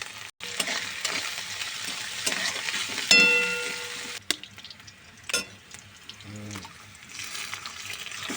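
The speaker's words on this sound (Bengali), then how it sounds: "রসুন আদা পেঁয়াজ লঙ্কা সবাই তেলের মধ্যে সব দেওয়া হয়েছে। এবার খানিক লাড়াচাড়া করবে।" Garlic, ginger, onion and chili frying in oil while being stirred, a steady close sizzle with scraping stirs, a brief clatter midway and a few faint tap-like splashes near the end.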